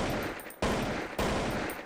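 Gunfire in the video game Zompiercer: two sharp, loud bursts of rapid shooting, each breaking into a dense rattling stretch, with no talk.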